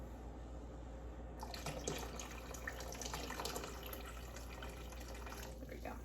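Tap water runs into a pot for ham minestrone soup in a home kitchen, a steady splashing fill starting after a brief pause and continuing close and fairly loud to the end, with a voice speaking briefly over it.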